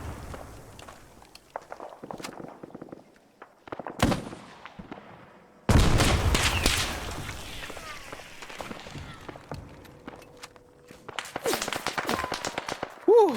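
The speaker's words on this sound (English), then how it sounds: "you have the AT vehicle with HE and Willie Pete rounds blowing people up to some pretty significant effect here" Arma 3 combat as an AT vehicle fires HE and white phosphorus rounds: a sudden heavy blast, a second louder boom that rolls into sustained rumbling explosions, then scattered crackling impacts and distant shots.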